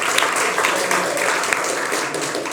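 Audience applause at the close of the French talk-show Bistro Libertés, a steady dense wash of clapping from a live studio crowd, loud and sustained throughout with no voices over it.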